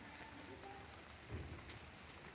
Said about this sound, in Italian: Sta piovendo proprio di brutto.